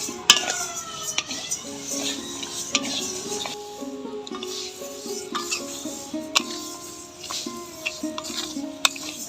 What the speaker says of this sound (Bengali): ডালটা আমি হালকা করে ভেজে নেব।